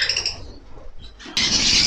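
Pet parakeets with rainbow chicks chirp in bursts inside an aviary, shrill close calls starting and stopping, then a sudden loud stretch of chatter from several birds.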